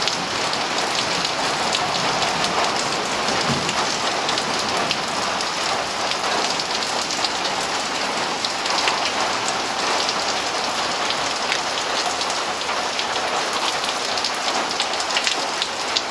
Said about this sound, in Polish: taka chwilowa burza